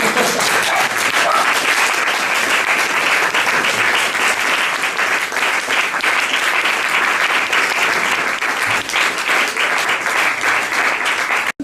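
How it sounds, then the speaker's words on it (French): Sustained, loud audience applause fills a conference hall at the end of a French talk on the violence of advertising ideology, steady dense clapping running the whole length. "On applaudit."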